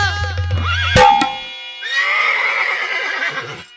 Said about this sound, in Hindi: घोड़ा चिल्लाता हुआ